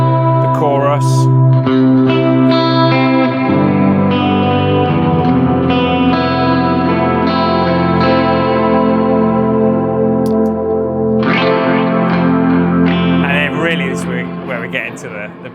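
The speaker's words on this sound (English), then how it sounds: "The chorus." Electric guitar run through a chorus pedal, shimmering strummed chords with a wavering, doubled tone and a wash of reverb, steady and prominent for about fifteen seconds with a fresh strum near the end.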